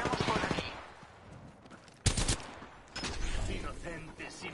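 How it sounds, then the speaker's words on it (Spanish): Rapid bursts of automatic gunfire in the battle royale game Apex Legends, sharp close volleys with a loud crack midway, under and between a player's talk. "Me están disparando"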